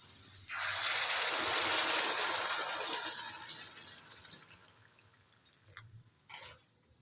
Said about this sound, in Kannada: ನೀರನ್ನ ಕಾಯಿಸಿಟ್ಟಿದ್ದೀನಿ, ಅದನ್ನು ಹಾಕ್ತಾಯಿದ್ದೀನಿ